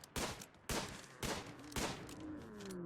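Four sharp gunshots fire at a steady, slightly uneven rhythm at a megasloth in the video game Rimworld, each crack trailing a short decay, with no talking.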